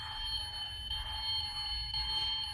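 Car alarm system sounding on a car with alloy rims, a steady high electronic whine that stays constant throughout at moderate level, with no talk over it.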